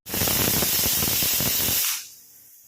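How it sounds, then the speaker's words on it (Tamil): A pressure cooker boiling potatoes releases a loud, steady blast of hissing steam for about two seconds, then cuts off abruptly, leaving a faint residual hiss. "குக்கரை மூடி ஒரு உருளைக்கிழங்கு வேக வைக்கிற அளவுக்கு ஒரு 3 விசில் விட்டால் போதும்."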